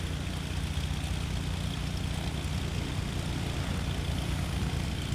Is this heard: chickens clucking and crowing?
no